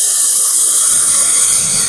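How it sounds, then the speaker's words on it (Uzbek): A hair dryer blowing on hair at home, a loud continuous airy whoosh with a steady high whine running unbroken throughout, no speech. "Endi fenda quritib olaman."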